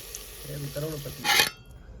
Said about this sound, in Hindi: बस अब जो इसमें मसाले डाल देती हूँ, मसाले डाल के भून के